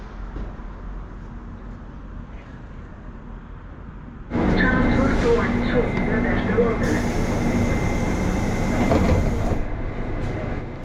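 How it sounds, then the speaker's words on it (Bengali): A metro train ride in Sofia, Bulgaria, heading from the airport: a low, quiet rumble suddenly swells into loud rolling clatter with a high-pitched whine as the train speeds up. "সোফিয়া এয়ারপোর্ট থেকে বেরিয়ে মেট্রো ধরে হোটেলের পথে"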